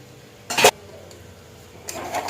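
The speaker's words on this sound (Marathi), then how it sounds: "तर आता ही सगळी मी तुपामध्ये टाकली" Broken wheat lapshi being stirred and roasted in ghee, with two bursts of scraping and clatter from a spoon against the cooker pot separated by a quiet pause.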